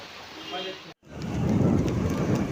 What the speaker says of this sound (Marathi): पाऊस बघा किती पडता तो जोरात.